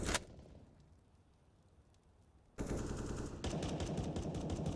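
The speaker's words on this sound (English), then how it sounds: "Love to see both teams get these gun rounds rattling off." Counter-Strike gunfire on the Anubis map rattles in rapid automatic bursts, starting with a sharp shot, thinning to distant firing, then erupting into loud sustained bursts that continue to the end.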